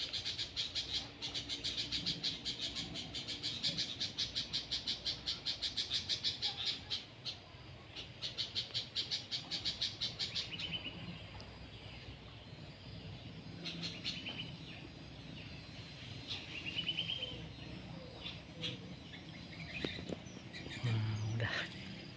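A small songbird fights a woodpecker outdoors, giving rapid, repeated sharp chirps and squawks. The calls come in dense bursts, then become sparser and fainter toward the end.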